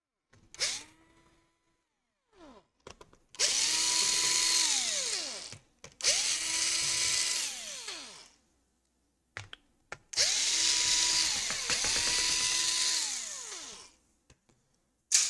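A power screwdriver backs out the battery screws on a Lenovo Legion Y545 laptop, whirring in several loud bursts of a few seconds each with short pauses and small clicks between them.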